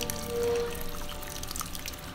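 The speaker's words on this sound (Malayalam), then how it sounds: "ഇതിൻ്റെ നീര് ഒന്ന് അരിച്ചെടുക്കണം നീര് മാത്രം നമുക്ക് ജസ്റ്റ് ഒന്ന് അരിച്ചെടുക്കാം" Cooked chicken stock strained and poured off for Malabar-style chicken rice, a steady liquid pour and trickle running close by for a couple of seconds, with no talking.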